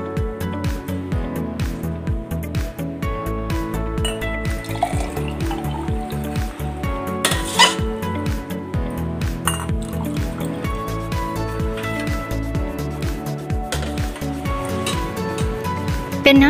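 Butterfly pea flower, ginger and lime herbal drink ladled into a serving glass, with steady liquid pouring and splashing and repeated light clinks of glass throughout, continuous and fairly close.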